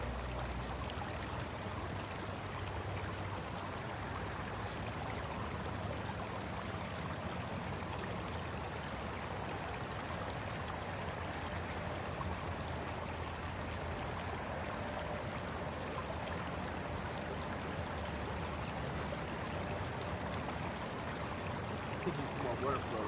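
Water rushes steadily down a creek worked by gold miners using simple equipment, a continuous broad wash of flow that stays loud and even throughout.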